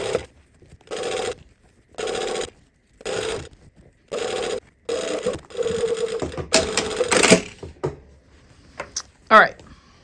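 A sewing machine stitches a narrow baby hem on fabric in several short bursts of rapid mechanical whirring separated by brief pauses, close and fairly loud, ending with a few louder clicks and clatters.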